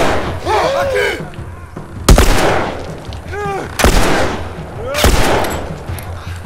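Several loud gunshots from The Last of Us crack out at irregular intervals, with excited talk and game sounds running underneath.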